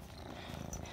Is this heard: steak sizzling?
no